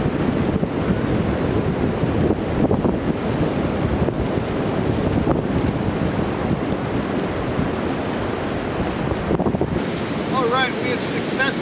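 Heavy ocean surf pounding a beach on the wild Olympic coast, a continuous loud roar of breaking waves mixed with gusty wind buffeting the microphone, no voices.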